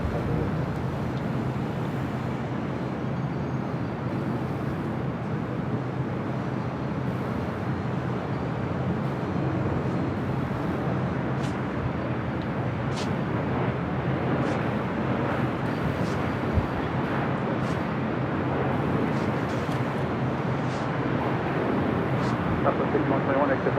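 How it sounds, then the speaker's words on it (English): An Alaska Airlines Boeing 737 MAX 9 arrives at LAX, its broad, steady engine roar holding continuous and loud throughout, with faint radio chatter mixed underneath. "Alaska Airlines Flight 1048 coming in from Seattle, 737 MAX 9."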